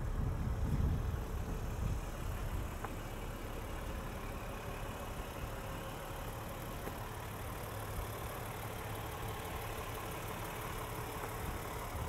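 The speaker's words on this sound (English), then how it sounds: "At idle, this almost sounds like a diesel." A 2022 Range Rover LWB idling, a steady low engine drone with a slightly diesel-like grumble that holds constant throughout, heard from inside with no one speaking.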